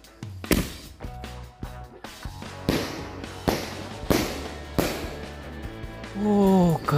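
Firecrackers going off at night: a series of sharp pops and bangs, some near and loud, with crackling and a whistling rise toward the end, and a voice faintly underneath.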